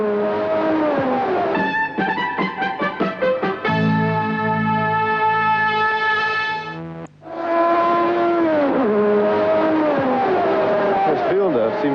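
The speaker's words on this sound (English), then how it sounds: "Villeneuve seems to be just edging away a little bit from Arnoux in the Renault" Formula 1 cars of the 1982 season race at the hot, bumpy Rio circuit in the Brazilian Grand Prix, including a Ferrari and a Renault. Loud, whining high-revving engines rise and fall as cars pass close by, under steady commentary.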